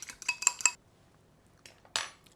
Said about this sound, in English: I'm just gonna whisk this to recombine it